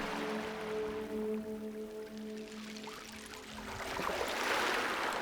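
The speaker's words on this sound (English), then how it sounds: "It laps against the stone with this tired little sound" Gentle water lapping against stone, soft trickling and pouring with a low tonal hum in the first part, growing slightly fuller and splashier toward the end, quiet and close.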